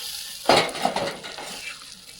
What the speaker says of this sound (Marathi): आता आपण जरा हे हलवून घेऊया